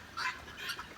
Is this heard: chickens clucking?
yes